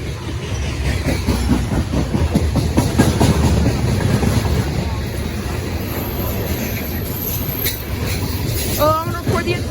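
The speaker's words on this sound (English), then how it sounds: "That was in an eastbound coal train, 2-2 style with 559 as the DPU." An eastbound CSX coal train, with former RS3K unit 559 running as a distributed power unit, rolls past with steady rhythmic wheel clatter, rumbling cars and brief wheel squeals, loud and close throughout.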